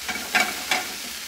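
Okra for gumbo sizzles softly in a pan, with two or three faint stirring scrapes over a quiet frying hiss.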